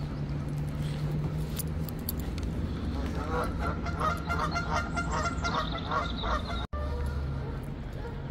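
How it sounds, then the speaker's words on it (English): Repeated goose honks ring out in the middle of the clip over a steady low outdoor rumble in Bakewell in the Peak District, several birds calling close by in irregular bursts. "All these bird noises."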